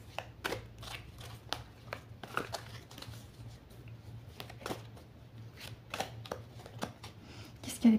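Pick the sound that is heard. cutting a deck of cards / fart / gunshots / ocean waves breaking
cutting a deck of cards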